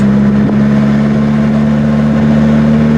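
MG Midget sports car engine running at a steady drone, loud and close, with a constant low tone and only a slight shift near the start, no talk.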